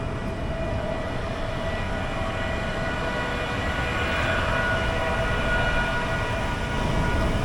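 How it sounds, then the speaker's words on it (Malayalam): A BEML-built MEMU commuter train bound for Yesvantpur rolls past as a steady, loud broadband rumble that holds for the whole stretch and swells slightly toward the end, with no voices. "ബാംഗ്ലൂർക്കുള്ള മെമോ ആണ്, യശ്വന്ത്പൂർ മെമോ എന്ന് തോന്നുന്നത്"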